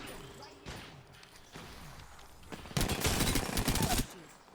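Rapid automatic gunfire in the shooter video game Apex Legends, a dense burst lasting over a second after scattered lighter shots, fairly loud against quiet game ambience.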